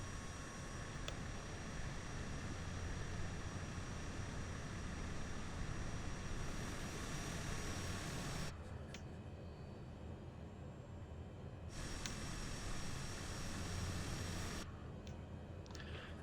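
Beechcraft King Air turboprop engines running on the runway at Moorabbin, a steady loud broadband roar with a constant whine, holding level throughout with brief dips in the upper hiss.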